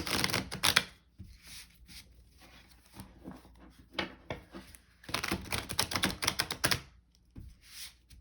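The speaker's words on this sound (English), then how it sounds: "Just shuffle a few more times, and then I will pull some oracle cards too at the end." Tarot cards shuffled by hand during a romance reading, with two long bursts of dense riffling and slapping near the mic separated by quieter softer handling, no talking.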